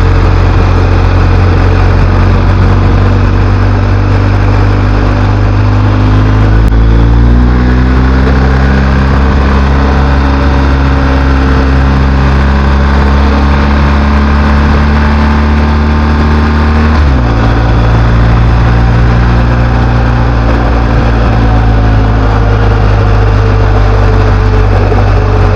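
A 2022 BMW R1250 GS Adventure motorcycle engine drones loud and close, with pitch shifts as it downshifts under engine braking, the tone dropping and then jumping back with each gear change.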